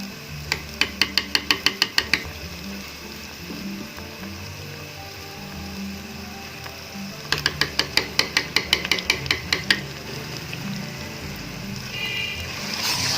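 Spinach and meat cooked with desi ghee are stirred in a metal pot, with two bursts of rapid, regular spoon clanks against the side over a soft background sizzle.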